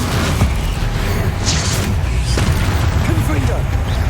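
A Bombarda spell explodes in Hogwarts Legacy on PC: a loud, dense blast with a deep booming rumble that sustains throughout, layered with other combat effects and brief magical whooshes.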